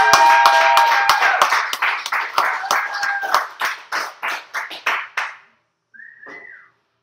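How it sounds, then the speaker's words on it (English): A live audience breaks into loud, sustained clapping for a performer taking the stage, with a sharp whistle riding over it; the clapping thins into scattered separate claps and stops, then a short whistle sounds alone. "I'd like to give a big round of applause and warm welcome for Emily."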